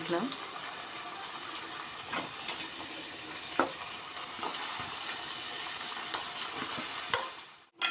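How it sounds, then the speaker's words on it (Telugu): Sliced bitter gourd pieces sizzling steadily in hot oil in a pan, a continuous bright frying hiss with occasional stirring clinks, close and even throughout. "ఇట్లా ఎర్రగా అయ్యేదాకా వేయించుకోవాలండి"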